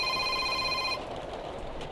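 Telephone ringing with a bright electronic tone that holds for about a second and then stops, leaving a low background hum with no speech.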